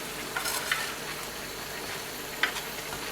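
Spices are being stirred into kidneys and testicles frying on a hot griddle for Lahore-style taka tak, giving a steady close sizzle with a few sharp scraping clinks of the spatula and no voices.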